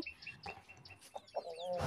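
Soft, scattered clucks from a desi chicken on a small farm, faint and somewhat distant, with a few higher chirps over quiet background noise.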